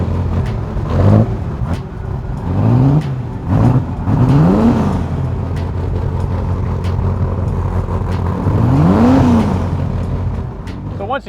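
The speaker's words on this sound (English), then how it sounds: "you turn the key, turn the fuel pump on, and the start." A Ford GT40 race car engine runs loud and close, with several sharp revs rising and falling over a steady idle rumble; no talking.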